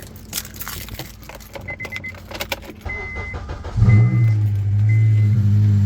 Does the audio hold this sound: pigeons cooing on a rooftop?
no